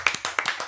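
A few hand claps from a studio audience greeting a bailiff on a television show, about five sparse, quick claps, brief and moderately close.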